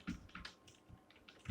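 Code is typed on a computer keyboard in a few quick bursts of close, crisp key clicks with short pauses between them, with no talking.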